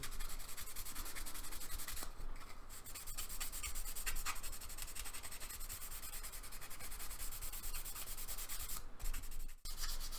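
Jaguar E-Type bonnet rubbed down by hand with fine abrasive before primer, a steady close scratchy sanding sound with continuous back-and-forth strokes and no talk.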